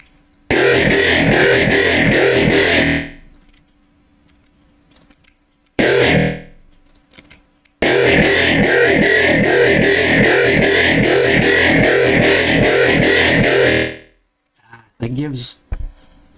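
Synth bass with distortion and LFO automation, heard as gritty, buzzing, rhythmically pulsing bursts with pauses between them and a short wobbling sweep near the end.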